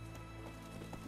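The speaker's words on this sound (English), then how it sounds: "I want to get on this horse and get the heck out of here." Hooves of the horse Roach in The Witcher III video game, a soft steady clip-clop of footfalls beneath a constant musical drone, faint and close, with no talk.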